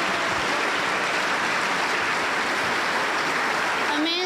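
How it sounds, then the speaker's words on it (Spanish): A Pentecostal church congregation applauds the young women's choir with a steady, dense wash of clapping that fills the whole stretch at an even, moderate level. "la recibimos con aplausos para el Señor Jesús"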